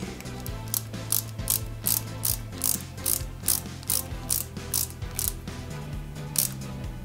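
A screw is driven into a part of a 1/8-scale Citroën C4 WRC 2008 model car, making a loud, rhythmic series of sharp ratcheting clicks in regular bursts, close up, with no talking.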